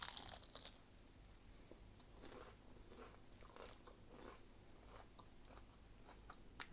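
Close, crisp bites and crunchy chewing of crispy brick-pastry samosas filled with ground beef, several sharp crackling bursts spaced between quieter chewing, with no talk.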